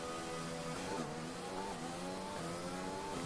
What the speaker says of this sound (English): I still love the sound of that engine firing up.